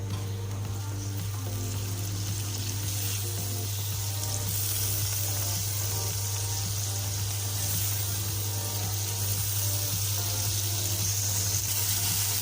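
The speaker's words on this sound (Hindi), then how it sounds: "अब इस मसाले को अच्छी तरह से भूनना है हमने।" Masala paste with about a cup of yogurt frying in a pan: a loud, continuous sizzle with a constant low hum underneath, steady for the whole stretch and without talk.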